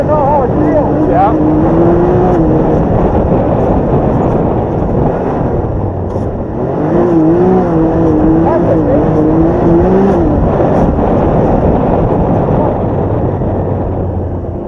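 A Can-Am Maverick XRS side-by-side runs along a trail in two-wheel drive, its engine droning and revving in rising and falling pitch throughout, with people talking over it.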